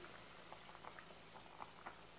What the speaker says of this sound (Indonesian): Nah, ini sudah mendidih.